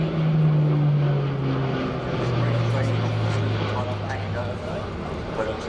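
An Airbus A400M turboprop comes in for a short landing at the 2016 Farnborough Air Show. Its loud, steady propeller drone slowly drops in pitch, with people talking over it throughout.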